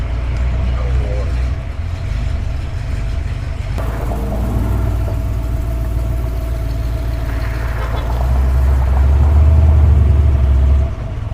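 An original Shelby family Cobra with a misbehaving carburetor idles with a deep, steady low rumble, swelling slightly toward the end, while people talk over it nearby.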